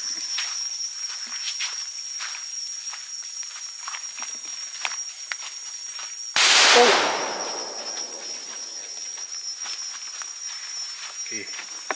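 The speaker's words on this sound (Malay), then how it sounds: "Itu bunyi letupan menandakan kehadiran kita dekat sini" A single loud explosive bang erupts in tropical forest while hiking in Kuala Rompin, Malaysia, then decays over several seconds above a steady high insect drone and scattered faint rustles and footsteps.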